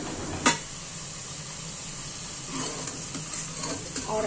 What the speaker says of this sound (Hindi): अब इसको थोड़ा सा हम भूनेंगे